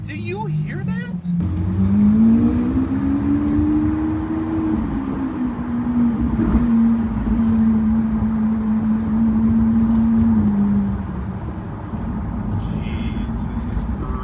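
Lamborghini Aventador V12 engine revving in a parking garage, a loud, deep droning roar whose pitch climbs and settles over several seconds, echoing close by before fading to a lower rumble.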